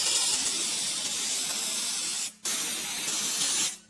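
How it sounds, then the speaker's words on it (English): A spray gun applies two-part epoxy primer to restored parts of a 1957 Wild Heerbrugg surveying level, producing two loud, steady hissing bursts separated by a short pause, with no voices. "After a thorough cleaning, the next step is applying a 2-part epoxy primer,"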